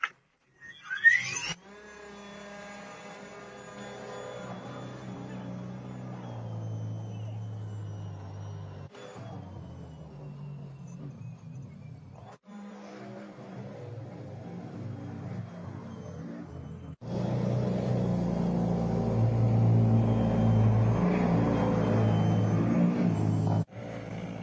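A Greenworks 82V cordless battery snow blower starts up and runs with a steady electric motor whir and churning hum, growing louder and rougher toward the end as it works through snow.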